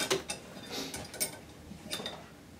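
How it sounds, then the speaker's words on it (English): Two half-inch box wrenches tighten half-inch nuts on threaded rods at the bottom of a 4-inch crystal dragon stand, giving a few close metallic ratcheting clicks and scrapes in short separate bursts. "So I'm going to lock down the bottom. Here on the 4 inch size, we're just using half inch nuts, so I've got two half inch box wrenches."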